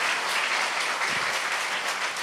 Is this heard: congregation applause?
yes